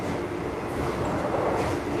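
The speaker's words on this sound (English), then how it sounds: "Riding the train early in the morning." A train rolls along the rails in Thailand early in the morning, with a close, steady low rumble and faint rattling that continues without a break.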